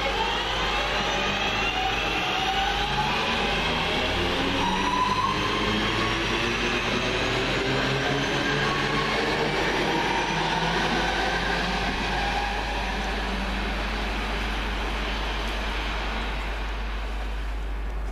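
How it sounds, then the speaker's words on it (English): A Northern Rail passenger train, a class 323 electric unit, pulls away from a station, its motor whine climbing steadily in pitch over a low rumble, fairly close and continuous with no talking. "To leave any second now, the 11:51 Northern Rail service from Manchester Piccadilly to Crewe."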